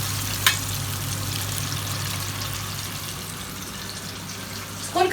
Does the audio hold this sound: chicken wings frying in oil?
yes